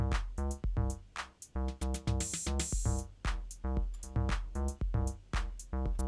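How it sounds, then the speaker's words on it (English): A synth bass line in Ableton Live with a delay effect plays a steady, punchy rhythmic pattern of repeated tonal notes, loud and close with no talk. "I'm just going to send that to the delay."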